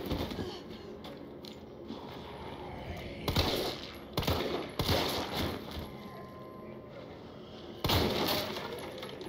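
Gunfire in Resident Evil 3, several loud sharp shots scattered irregularly, each with a burst of clatter, over steady game background noise.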